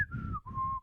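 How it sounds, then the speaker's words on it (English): Penny whistle from Clangers, two short sliding tones with a brief break between them, the first falling gently and the second held steady, clear and fairly soft. "penny whistle"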